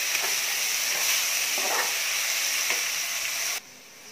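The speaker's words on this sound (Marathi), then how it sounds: "त्यात थोडासा टोमॅटो बारीक चिरलेला, टोमॅटो चांगला भाजून घेऊया." Finely chopped tomato roasts in a hot pan with a dense, steady sizzle and hiss close by, faint stirring scrapes now and then, before the sound drops off abruptly near the end.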